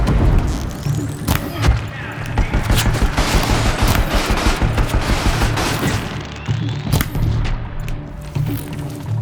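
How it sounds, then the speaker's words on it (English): Heavy gunfire rattles almost nonstop in a Horizon Zero Dawn battle, dense bursts and crashing impacts loud and close, easing slightly before a final flurry. "Why are they shooting at me?"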